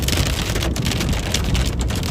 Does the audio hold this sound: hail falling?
yes